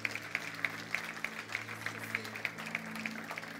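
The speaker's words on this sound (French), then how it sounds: "On peut les encourager, on peut les applaudir." A church congregation at a baptism service claps in a steady, regular beat, with about a dozen evenly spaced claps over a constant low hum of room noise and background murmur.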